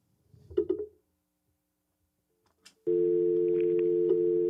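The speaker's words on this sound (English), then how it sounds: "Ah, we have a phone call." A steady telephone tone, like a dial or busy signal, sounds loud and continuous for the last couple of seconds, after a brief burst of noise and a faint click.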